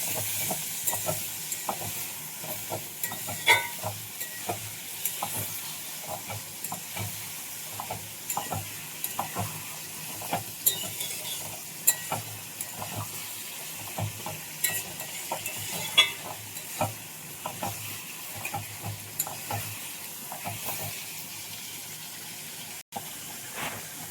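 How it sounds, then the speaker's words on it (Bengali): Food is stirred in mustard oil with garlic in a pan for veg khichuri, a steady sizzle running underneath repeated close scraping strokes of the spoon, with no talking. "ভালো করে নাড়াচাড়া করবো"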